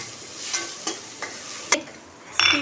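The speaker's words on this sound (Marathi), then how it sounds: "आपण हा एक टोमॅटो टाकून घेऊया. परत छान" Onion and tomato stir-fried in a thin steel kadai, with a steady soft sizzle broken by several sharp scraping stir strokes, a louder clatter near the end, close and with no voices.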